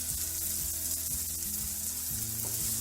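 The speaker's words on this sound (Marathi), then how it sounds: "टमॅटो पण चांगला तेलात भाजून घे टमॅटो आपला तेलात चांगला भाजलेला आहे" Tomato and spices frying in hot oil, a steady bright sizzle that stays even and close throughout, with a low mechanical hum underneath and no voices.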